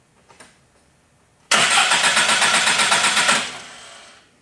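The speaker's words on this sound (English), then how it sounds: "Okay, now let's crank the engine." A car engine cranks with a rapid, even chugging rhythm for about two seconds, then fires and catches loudly before settling down. A starter cable is clamped for a starter health test, and no one speaks.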